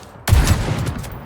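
In the shooter game Fate Trigger, a single sharp gunshot lands on an enemy's chest, a sudden loud crack followed by a decaying rumble.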